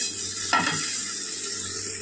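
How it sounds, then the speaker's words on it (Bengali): Masala and yogurt being sautéed in a pan for a Bengali potol and potato curry: a steady sizzle with one scraping stir partway through, close and alone. "আবারও কিছুক্ষণ কষিয়ে নেবো আমি।"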